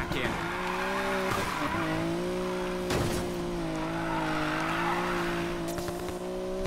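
A Nissan Skyline GTR R34 drifts in the Need for Speed Payback video game, with a steady engine drone rising and falling in pitch and tires squealing throughout, and several sharp bursts breaking in over the noise.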